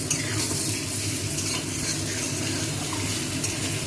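Brinjal with neem leaves, cumin and chilli powder fries in a pan, a loud steady sizzle with scraping and stirring sounds from a spatula throughout, no voices.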